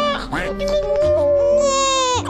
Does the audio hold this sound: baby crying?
yes